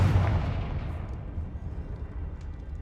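A Confringo blasting spell explodes in Hogwarts Legacy with a loud, deep boom that rolls off into a long rumbling decay, standing alone without talk.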